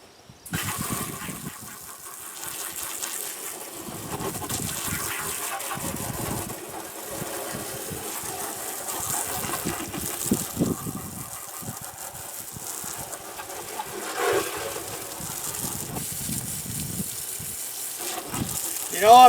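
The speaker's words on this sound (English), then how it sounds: "I'm just going to rinse down my tractor a bit." A garden hose fed by a 12V solar pump drawing shallow well water at 60 psi sprays down a tractor, a steady hissing rush with spattering shifts as the stream moves, fairly close, with a voice at times.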